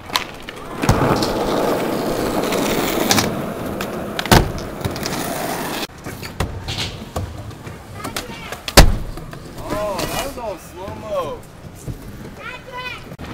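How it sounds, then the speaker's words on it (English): A skateboard kickflip over stairs: a sharp pop and rolling wheels, then a loud hard clack of the landing and the board riding away over rough ground, with whistling and chatter from people nearby. "That's a kickflip over stairs."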